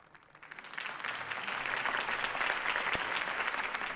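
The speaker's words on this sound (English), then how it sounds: "If only Mr. Wayne, my campaign's largest backer, could have heard that applause" Crowd applause after a political campaign speech for Harvey Dent in a Batman video game, rising from quiet into a steady, dense wash of many clapping hands that holds on without voices.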